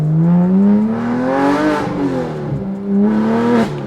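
A DeMan-built 4.5-litre Porsche GT3 Touring engine revs loudly and close, its pitch climbing steadily, dipping briefly, then rising again in a smooth throttle sweep.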